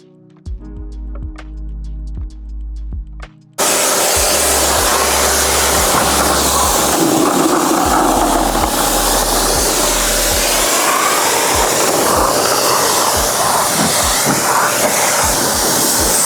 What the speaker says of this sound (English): We're using the Ego pressure washer 3200.